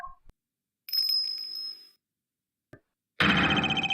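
A bright, ringing bell tone in the Ace Attorney Investigations 2 video game, sounding for about a second after a short blip, then a brief click and a louder burst of game sound effects.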